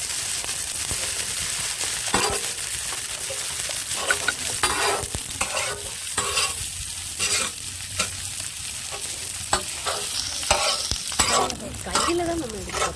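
Onions sizzle steadily in a hot pan for a Kerala banana-leaf fish fry, with a spoon stirring and scraping through them at close range; there are no voices.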